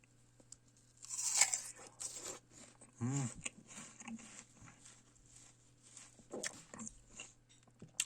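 Crisp, juicy crunches as teeth bite into a crunchy, juicy Asian pear, a sharp bite near one second and another around three seconds, followed by softer intermittent chewing, close and alone without talk.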